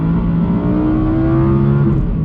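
An Audi R8 accelerates hard while being driven, its engine a loud, steady, rising roar heard from inside the car, with no talking over it.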